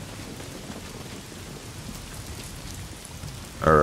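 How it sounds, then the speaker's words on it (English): Steady, dense rain pours in a thunderstorm in the video game Days Gone, with a low rumble beneath and a sudden louder burst at the very end. "Bad storm coming."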